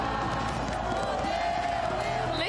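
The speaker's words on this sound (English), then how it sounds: "Listen to that crowd. The Furia fans are in full force" Crowd of fans cheering at a Valorant esports match between Fnatic and Furia at VCT LOCK//IN, a steady loud roar of voices with whoops throughout.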